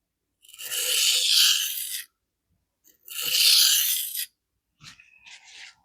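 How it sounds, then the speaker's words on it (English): Maxamet steel knife edge drawn across a coarse diamond plate in two long, bright rasping strokes separated by silence, followed by a few short lighter scrapes, close and clear. "Make some very lighter and lighter edge leading strokes."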